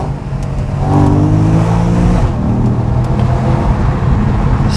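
Porsche with a PDK double-clutch gearbox downshifting, heard from inside the cabin with a window cracked: the engine revs up sharply, then holds a loud, rising growl.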